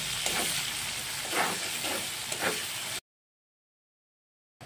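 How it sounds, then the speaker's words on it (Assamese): Onion, garlic and ginger paste frying in a pan for chicken curry, a steady close sizzle with a few stirring swells for three seconds before cutting to silence. "এইখিনি অলপ ৰঙাকৈ ভাজি ল'ম"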